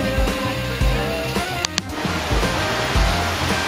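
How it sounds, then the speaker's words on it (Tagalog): River current rushes steadily near a waterfall by Wawa Dam, a loud, constant hiss of flowing water heard up close during a bike ride, with faint mechanical hum and brief clicks over it. "narinig yun yung agos kasi malapit na tayo dun sa pa-waterfall effect"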